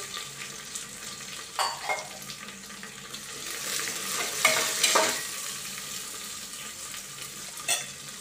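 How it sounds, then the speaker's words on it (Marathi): Chillies fry in a pan of hot oil for rice khichdi, giving a soft continuous sizzle with a few clinks and stirring scrapes, quiet and close with no talking. "मिरच्या टाकून घेते."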